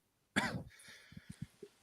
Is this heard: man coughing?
yes